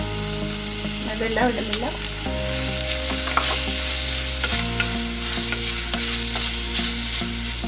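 Onions fry in coconut oil in a clay pot, a loud close sizzle crackling steadily throughout while a voice talks briefly over it.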